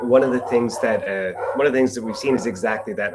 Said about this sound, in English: Apologies if you hear my dogs in the background.